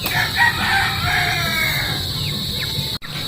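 A rooster crows nearby, one long drawn-out call over a steady outdoor hum, followed by a few faint distant clucks.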